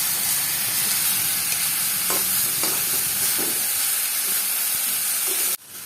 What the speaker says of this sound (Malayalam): നമ്മളിത് 2 സ്പൂൺ ഉപയോഗിച്ച് ഇങ്ങനെയാണ് ഇളക്കേണ്ടത് നൂഡിൽസ് കുക്ക് ചെയ്യുന്ന സമയത്ത് കേട്ടോ.